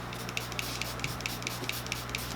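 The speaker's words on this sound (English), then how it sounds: "So I'm gonna start with the Stay Spray" Maskcara Stay Spray setting mist spritzed onto the face in a rapid series of short, soft hissing pumps, close and quiet, about a dozen bursts in quick rhythm.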